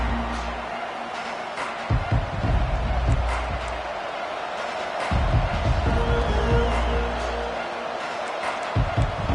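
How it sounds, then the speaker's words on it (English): A large stadium crowd at a college football game involving Texas A&M roars and cheers in a broad, sustained wash of noise, swelling in waves with thuds and claps mixed in. "This crowd bringing an ear-splitting welcome to their visitors."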